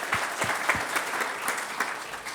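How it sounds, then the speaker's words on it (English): A conference audience at a national blood symposium breaks into applause after a talk on health standards, a moderately distant, even patter of many hands that fades slightly at the end. "Not too many people get applauded for accreditation, I've got to tell you."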